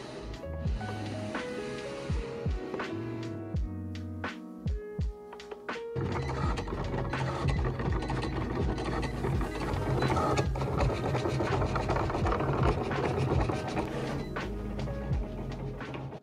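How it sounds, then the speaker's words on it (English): Vinyl cutting machine fitted with a fine point blade, measuring and then cutting a roll of vinyl, giving steady mechanical whirring and rapid ticking carriage movements, with busy motor activity running close and continuously throughout. "I moved on to let the machine measure the vinyl before cutting."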